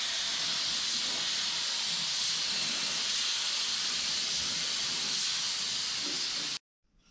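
A spray gun lays down a final primer coat on the bodywork of a 1959 Dodge Coronet, a steady, loud airy hiss running unbroken for about six and a half seconds before it cuts off abruptly.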